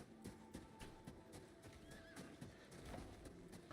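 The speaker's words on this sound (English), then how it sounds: "I heard my horse make noise." A horse neighs and whinnies in a video game, with clip-clop hoof sounds and a busy layer of in-game ambience running through the whole stretch, loud and close.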